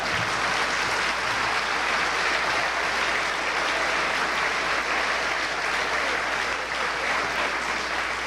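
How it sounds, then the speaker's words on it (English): A large audience at the 1995 Rochester State of the City address breaks into sustained applause, a dense, steady wash of clapping that holds at an even, loud level for the whole stretch with no voices over it. "I know you're going to clap for that."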